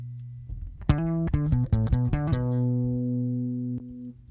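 A bass guitar played through a Tech 21 dUg Pinnick DP-3X EQ pedal plays a quick run of plucked notes, then holds a sustained low tone that rings out steadily with a single late pluck.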